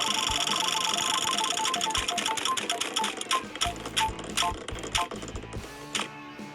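A spinning prize wheel in a Blue Lock team-picking game ticks out a fast, steady run of sharp clicks over a bright musical bed, the clicks spacing out slightly toward the end.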